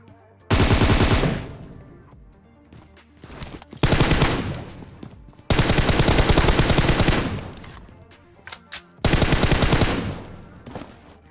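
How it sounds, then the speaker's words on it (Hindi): Bursts of M4 assault rifle fire in PUBG Mobile, four loud sustained automatic volleys of rapid close shots separated by short pauses and a few single shots, with no talk. "सामने वाली बिल्डिंग से एक बंदा पता नहीं किसको मारने में लगा हुआ था M4 लेकर"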